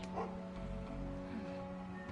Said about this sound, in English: Oh yeah, dog! Aren't you able to pet dogs?